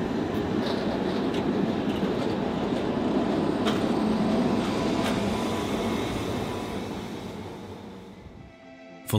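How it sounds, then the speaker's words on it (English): A Budapest tram rolls along the Danube with a steady, loud rumble of wheels on rails and faint clicks, easing off and quieting toward the end. "this is one of the most iconic tram rides in the world"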